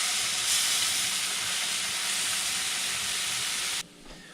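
Blackened bass fillets sizzle in a hot pan, a loud, steady, close hiss of searing fish that runs unbroken before cutting off abruptly near the end.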